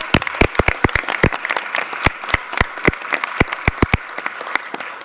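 Scattered hand claps from a small group at a school board of education meeting, sharp individual claps at an uneven rhythm rather than a dense roar, close by and fairly loud.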